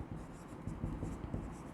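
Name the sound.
writing with a pen on paper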